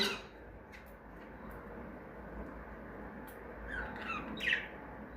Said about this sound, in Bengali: সেগুলোর নাম হচ্ছে বুলবুল।